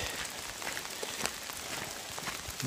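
Steady rain patters on a hiking trail between Gravel Springs Gap and Front Royal, a dense close hiss of drops with scattered louder taps, continuous and without voices.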